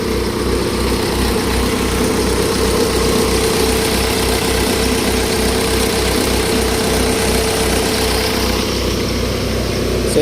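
A road roller's engine idles steadily and loudly up close, a constant low rumbling drone with regular pulsing and no one speaking.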